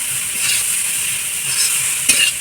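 Taro greens fry in a pan over a large, very hot clay stove, sizzling steadily while a spatula stirs and scrapes through them, with one brief clink of metal near the end and no voices.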